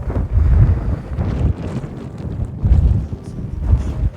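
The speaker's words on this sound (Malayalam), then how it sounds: "നല്ല കാറ്റുണ്ട്" Gusty wind on a hilltop at Illikkal Kallu, Kottayam, buffets the microphone in low rumbling bursts, rising and falling over a few seconds with no voices.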